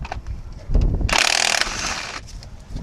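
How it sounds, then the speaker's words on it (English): Ratchet removing bolts behind the front wheel hub of a Ford F150 during wheel bearing replacement, a close, bright clicking burst of about half a second following a dull clunk. "Take out these two bolts back here."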